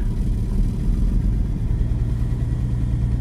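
A Porsche 911 engine with 133,000 kilometres on it idles steadily up close, a low, slightly uneven, lumpy rumble with no voices.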